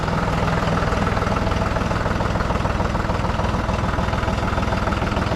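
A John Deere 5065 E diesel tractor engine idles evenly with a steady low rumble and mechanical chatter, continuous and close, with no talking.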